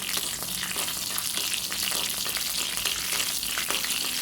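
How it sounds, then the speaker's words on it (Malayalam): Urad dal, mustard seeds and chillies fry in a pan for a chutney tempering, giving a steady sizzle dotted with frequent small crackles and pops, with no talk. "ഉഴുന്നും കടുകും മുളകും എല്ലായിട്ട് നല്ലപോലെ ഒന്ന് വറുത്തെടുക്കാം."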